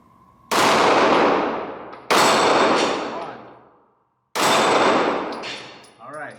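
Glock 43X pistol shots ringing off steel flapper targets, three loud, close reports spaced a second or two apart, each with a long metallic ring and echo tailing off.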